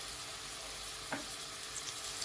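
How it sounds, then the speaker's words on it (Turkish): Pepper paste and red pepper powder frying in oil in a pot, giving a steady, fairly faint sizzle with one short scrape partway through. "Bunları güzelce özleştiriyoruz arkadaşlar."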